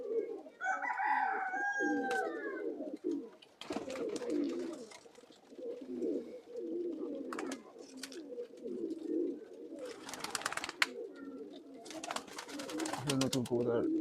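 Old-bloodline Khulna pigeons coo in low, repeated phrases close by. A person talks over them and brief handling noises break in now and then.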